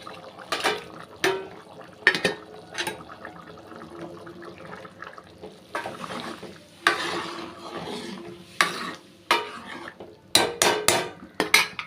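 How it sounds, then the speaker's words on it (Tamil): Dried fish being added and stirred into simmering curry in a pot, with irregular clinks and scrapes of a spoon against the pot over a soft bubbling simmer. "இப்போ வந்து கருவாடை சேர்த்துக்கிறேன்"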